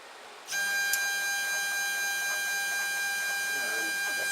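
A 3D printer axis driving upward on a threaded rod gives a steady high stepper-motor whine that starts abruptly and holds at an even pitch, close and moderately quiet.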